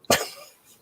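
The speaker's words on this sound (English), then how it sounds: "And I've been coughing up." A single sharp cough from a person who choked on drinking water, close and loud, trailing off into quiet breathing.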